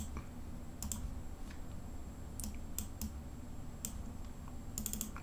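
Someone types on a computer keyboard, with quiet scattered clicks and short bursts of keystrokes, close and faint over a low background hum.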